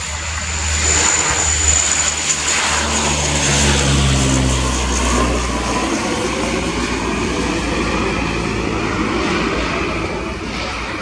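A Breguet Atlantique 2 patrol aircraft's twin turboprop engines roar loudly as it rolls and accelerates for takeoff at an air show, a deep droning rumble with a high whine, steady and close throughout.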